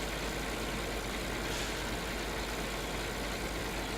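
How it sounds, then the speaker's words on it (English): Tractor engine from Farming Simulator 2013 driving over rough ground, a continuous dense rumbling drone at steady loudness with no pauses, heard alone. "Bit rough on the old tractor along here"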